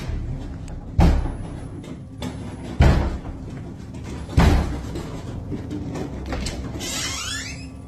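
Doors in a basement slam three times at even intervals, each a loud, sharp thud standing out against a dim, quiet room hum, with a faint scraping rustle at the end.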